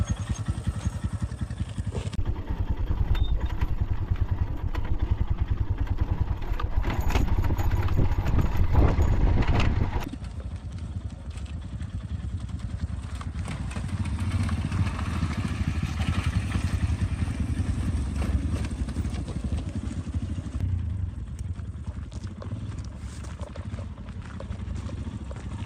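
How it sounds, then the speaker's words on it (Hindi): A motorcycle rolls downhill over loose pebbles on a hill trail near Bangalore, giving a steady, close crunching and rattling of tyres on gravel with engine rumble throughout, louder in the first ten seconds and then slightly softer. "नीचे उतरते समय मेरी बाइक काफ़ी स्लिप हो रही थी और उसका रीज़न था ये पेबल्स।"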